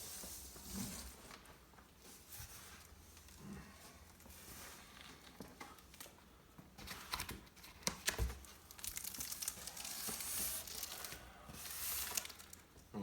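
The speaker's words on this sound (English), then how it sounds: "Cutting this tape away pretty easily" Packing tape being cut and a cardboard box for a Celestron NextStar Evolution 6 telescope opened, with close crinkling, tearing and scraping bursts that come and go irregularly, louder toward the end, with no talking.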